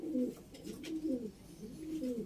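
Pigeons coo in a coop, soft repeated low throaty calls in a steady rhythm, fairly close and alone.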